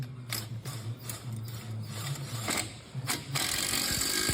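An impact wrench works a wheel hub nut on a car with a continuous rattling, ratcheting mechanical clatter, close and fairly loud, with sharper bursts near the end.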